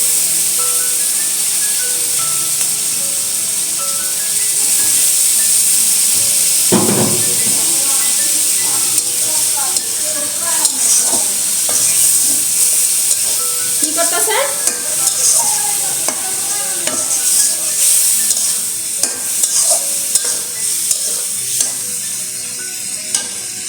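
Chow mein sizzles loudly in a pan as it is stirred, giving a continuous fry hiss broken by scraping and clattering from the stirring and a brief louder burst. A voice speaks faintly now and then.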